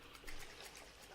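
A toilet flush in The Binding of Isaac, a faint, brief watery gush and trickle with soft splashy bursts.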